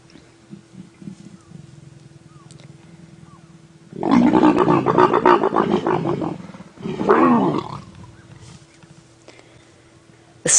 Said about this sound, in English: The sounds of a leopard mating pair are just incredible.